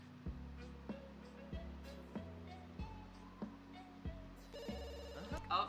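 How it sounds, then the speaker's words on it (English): A telephone in The Sims 2 game rings again and again, a steady run of electronic ring bursts over looping game music and soft in-game effects, with a bright chime flourish near the end. "Oh, it looks like the phone is ringing."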